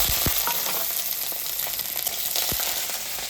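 Bay leaf, chili, black cumin and radhuni spices frying in hot oil, a dense steady sizzle up close with a couple of low knocks from the pan, no talking.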